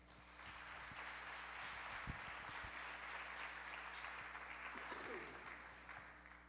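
Applause from a church congregation during a family celebration service, a steady wash of clapping that holds evenly for several seconds, with no speech over it.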